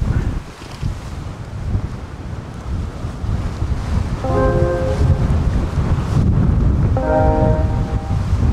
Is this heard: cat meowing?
no